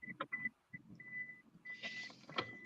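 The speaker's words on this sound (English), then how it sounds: "It will beep at you until you put your seatbelt on." A car's seatbelt warning chimes in short repeated tones at a steady interval, moderately clear against a quiet cabin with some rustling and handling noise.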